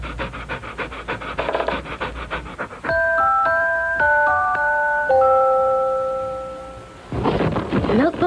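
A dog pants in a 1980s Christmas Milk-Bone dog biscuit commercial: quick, rhythmic, breathy pants open and close the spot, with clear chiming musical notes ringing in between.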